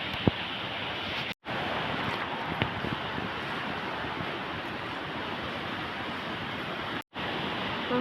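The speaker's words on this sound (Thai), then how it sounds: "น้ำตก" A waterfall roars as a dense, steady rush of falling water, loud and continuous, broken only by two brief dropouts.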